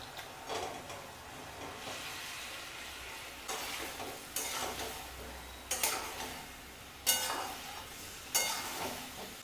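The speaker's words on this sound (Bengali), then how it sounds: "এবারে ভেজে রাখা আলুটা এর সাথে দিয়ে দেব।" Fried potatoes stirred into masala in a pan: soft continuous sizzle broken by about six scraping strokes of a spoon against the pan, growing sharper toward the end, with no voices.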